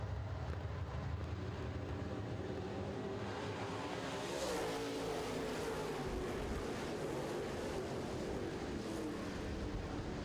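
Late model race cars racing at RRCS on a racetrack: a continuous dense roar of engines with a field passing in a swelling surge, heard at a distance amid wind buffeting on the microphone.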